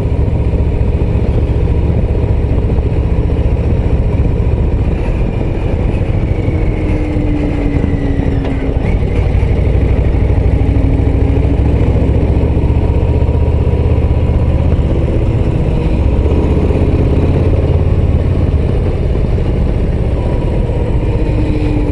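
A Harley-Davidson Low Rider ST on an autumn ride along small roads, its engine a loud, continuous low rumble with wind noise, steady throughout and no voices.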